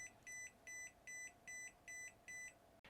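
BEKOYWOY green beam laser level beeps while sitting off level: six evenly spaced electronic tones, each about a quarter second long, repeat steadily at close range with no talk over them, and a brief click comes at the end.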